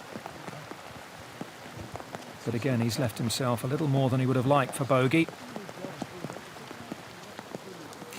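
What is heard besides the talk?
rain falling on a golf course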